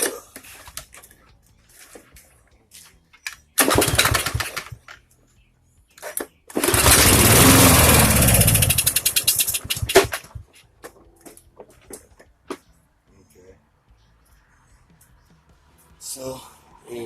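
A 159cc lawn mower engine is pulled to start, catching in a short burst, then roaring for about four seconds before sputtering and dying, with speech in the quiet gaps between attempts.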